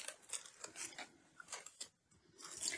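Scissors snipping through thin tissue paper for a collage, several quick crisp cuts in irregular rhythm with short pauses, close but quiet with no talking.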